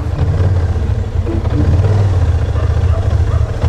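A Kymco AK550 motorcycle engine idles loudly nearby with a deep, throbbing rumble that holds steady throughout.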